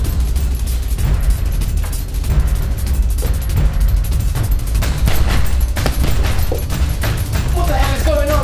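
Rapid bursts of gunfire crack and boom repeatedly over a dense, loud background, with no clear pauses between shots across the whole stretch.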